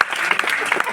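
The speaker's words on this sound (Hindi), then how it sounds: "एक बार जोरदार तालियां बजा दीजिए।" An audience at a Hindi poetry gathering (kavi sammelan) gives a short, dense burst of clapping from many hands, loud and close.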